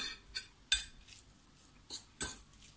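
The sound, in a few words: mixing grated cheese into tuna filling in a dish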